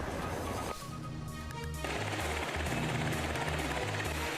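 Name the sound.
gunfire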